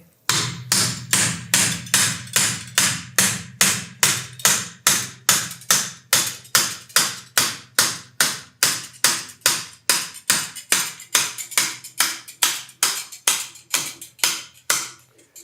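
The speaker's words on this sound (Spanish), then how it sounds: "Si se requiere ayuda del impactor, con el martillo lo podemos hacer." Steady, rhythmic metal hammer taps strike a surgical impactor during tibial nail surgery, about twice per second, each blow sharp and ringing, continuing evenly for a long stretch.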